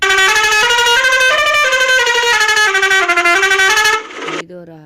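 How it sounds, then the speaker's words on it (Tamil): Bus horn sounding a continuous multi-tone melodic pattern, loud and close, with pitch stepping up and down for about four seconds before cutting off, then a voice speaks briefly. "இது ஒரு ஹாரனு,"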